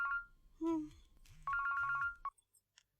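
A telephone rings in a repeated electronic warble, a few bursts in quick succession close by, with voices talking over part of it before it stops.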